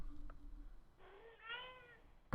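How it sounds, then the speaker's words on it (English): A cat meows upstairs, heard faintly and at a distance, with one short rising meow followed by a longer drawn-out call in a quiet room. "Cat's just going wild upstairs."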